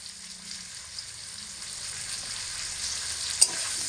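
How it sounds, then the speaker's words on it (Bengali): Potatoes frying in oil over high heat with salt and turmeric give a steady, bright sizzle close by, joined by a faint low rumble at the start and a single sharp clink of a utensil near the end. "এবার আলুগুলোকে লবণ আর হলুদের সঙ্গে তেলের মধ্যে ফেলে হাই আঁচে রেখে বেশ একটু লাল করে ভেজে নেব।"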